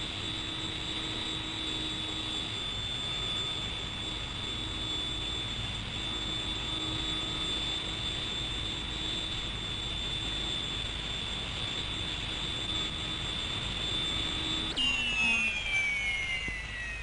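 Sabre jet fighters landing at Butterworth air base: a steady, loud jet engine whine with a high sustained tone dominates throughout, rising into a sharper shifting pitch near the end as an aircraft passes close.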